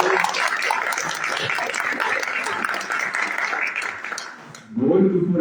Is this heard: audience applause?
yes